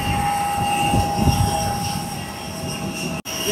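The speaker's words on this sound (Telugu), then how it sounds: "ఇదే మనం వచ్చిన ఫ్లైట్." A Vistara passenger jet on the ground at the airport just after landing gives a steady, fairly loud engine whine and hum with a constant tone throughout, heard alone with no talking.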